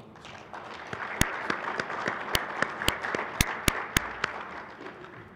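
Audience applause welcoming a keynote speaker at a water college luncheon, a room full of steady clapping with a few sharp, close claps standing out, moderately loud throughout.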